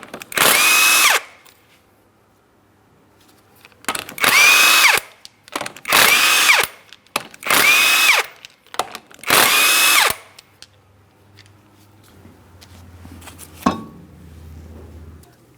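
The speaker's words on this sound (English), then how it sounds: "you're going to remove all 5 of your 19mm lug nuts so we can get the wheel off of here" A power tool removes five 19mm lug nuts from the front wheel of a 2003-2007 Cadillac CTS: five loud, close whirring bursts about a second each, spaced by short pauses, then a low hum and a single metallic clink.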